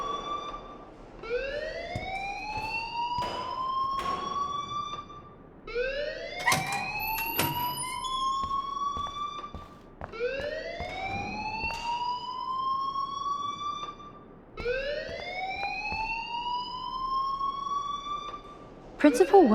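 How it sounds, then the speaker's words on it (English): Rising, wailing alarm in the video game Life Is Strange cycles four times in long sweeping swells, loud and continuous, with a voice talking over it. "please turn off that alarm since that's your job."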